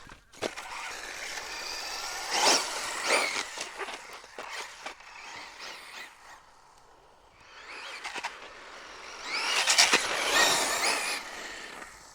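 A Traxxas Slash 2WD RC truck is driven at up to half throttle through a muddy, sloppy park. Its electric motor whines in rising bursts, with two stronger runs and quieter rolling and scrabbling noise between them.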